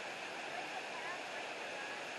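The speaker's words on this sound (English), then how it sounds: "You got to get under the waterfall." A waterfall in an outdoor setting where people are climbing up toward it, heard as a steady, even roar of falling water with no breaks, fairly faint and constant throughout.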